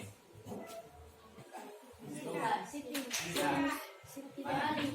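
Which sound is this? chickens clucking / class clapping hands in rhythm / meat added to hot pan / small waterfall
class clapping hands in rhythm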